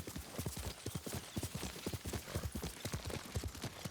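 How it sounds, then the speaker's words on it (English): Hooves of a horse clip-clopping in the Ghost of Tsushima Director's Cut game, a fast even gallop of crisp, close hoofbeats repeating steadily for the whole few seconds. "You're a good horse, Nobu."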